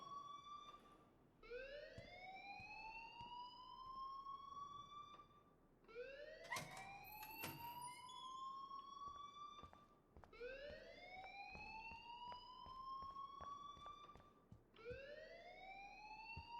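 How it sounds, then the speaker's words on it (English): Electronic alarm in the video game Life is Strange, repeated rising whooping sweeps, about four cycles, loud and steady with a few clattering hits between them, no speech. "please turn off that alarm"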